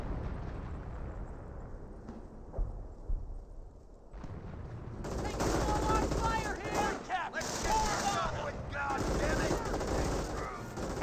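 Gunfire erupts around Panzer Grenadiers in a Company of Heroes battle: rapid rifle and machine-gun bursts rattle at mid distance, growing louder and denser halfway through.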